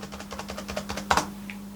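Keys on a computer keyboard click in a quick series of light taps, followed by a louder, deeper thump like the space bar, close and alone.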